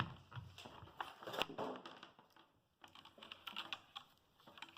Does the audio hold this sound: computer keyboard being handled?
yes